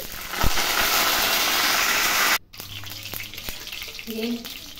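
Curry leaves, cloves, cinnamon and cumin seeds crackle and sizzle loudly in hot oil in a home kitchen for about two seconds, then the frying sound drops to a quieter, steady hiss with faint clinks.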